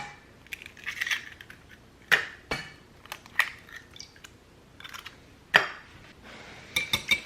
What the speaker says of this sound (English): We're just going to whisk it.